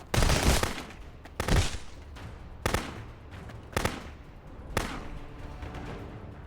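Shotgun blasts in the game Contraband Police: five heavy, booming shots spaced about a second apart, each with a sharp onset and a decaying tail, loud and close with no talk over them.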